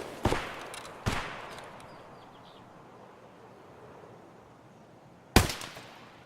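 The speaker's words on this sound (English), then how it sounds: "Do you hear the gunfire?" Gunfire in the video game Escape From Tarkov: three sharp distant shots spaced irregularly, each with a ringing tail that fades into quiet ambience.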